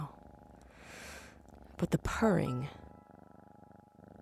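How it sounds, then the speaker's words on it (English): A cat purrs with a soft, low rhythmic rumble that becomes clearest toward the end, after a brief spoken word and some breathy voice sounds nearby. "the sound of her little purr makes me fucking delirious"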